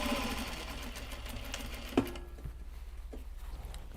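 A sewing machine stitches fabric for top stitching, a fast even rattling whir that stops abruptly halfway with a click, leaving quiet room tone and faint movement.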